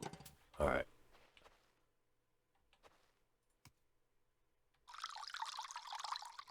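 Water pours into a vehicle's tank in Nomad Drive, a steady splashing trickle running for the last second and a half after a few quiet clicks and a brief burst of noise.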